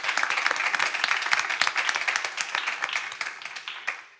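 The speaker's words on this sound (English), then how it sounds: "So if we just give her a round of applause in retirement." Audience members at a school district board meeting clap together in brisk, dense applause that gradually thins out and fades over about four seconds.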